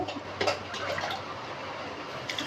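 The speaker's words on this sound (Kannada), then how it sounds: "ಅದರಲ್ಲೇ ನಾಲ್ಕು ಕಪ್ ಆಗುವಷ್ಟು ನೀರು ಹಾಕ್ಕೊಳ್ತಾ ಇದ್ದೇನೆ" Water is poured into a cooking pot of rice for pulao, making a faint, steady splashing and gushing stream that runs for a couple of seconds.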